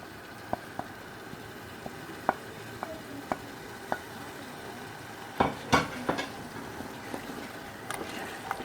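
Blended green chilli goes into a hot pan of onion and garlic, hissing into a soft, steady sizzle with scattered spoon taps and a burst of louder stirring scrapes toward the end.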